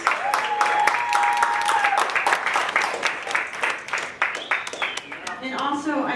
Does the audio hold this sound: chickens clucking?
no